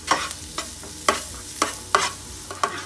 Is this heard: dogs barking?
no